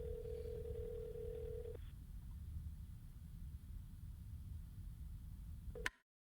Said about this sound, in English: I dial out and press my phone to my ear.